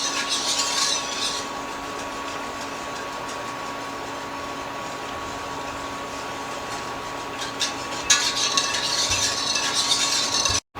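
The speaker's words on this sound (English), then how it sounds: "I'm just getting it up to a simmer. But just continue to whisk it" Whisk scraping and swirling through milk sauce heating toward a simmer in a pot, close and rhythmic, with brisker bursts of whisking at the start and again near the end.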